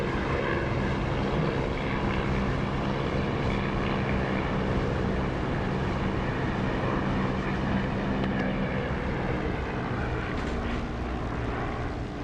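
Steady, loud propeller-aircraft engine drone with the landing gear down on approach to land in the DCS flight simulator, a continuous broadband roar holding constant throughout with no voices.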